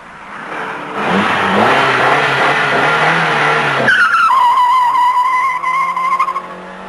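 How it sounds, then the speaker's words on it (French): A 1984 Alfa Romeo Alfasud TI accelerates hard close by, its engine note climbing through a gear change into a higher, sustained whine, with possible tire noise. "l'Alpha Sud TI se montre décevante en accélération"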